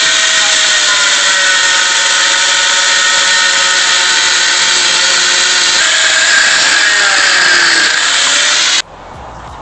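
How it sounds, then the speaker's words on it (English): An angle grinder cuts steadily through the crank pulley on a blown 2.0L Duratec engine from a Ford ST150, a loud, continuous high whine that holds for about nine seconds before abruptly cutting off. "I'm going to see if I can grind the crank pulley off so we can get the timing cover off"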